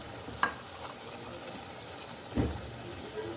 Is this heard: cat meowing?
no